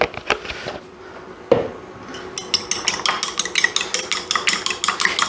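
Eggs and a splash of milk are whisked in a bowl, a quiet start with a few knocks giving way to a quick, steady run of utensil taps and scrapes against the bowl.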